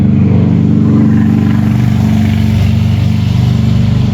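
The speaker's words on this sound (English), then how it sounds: "I hear a motorcycle." A motorcycle engine close by gives a loud, steady low rumble that holds through the whole stretch with no talking, heard outdoors near a 1970 Camaro.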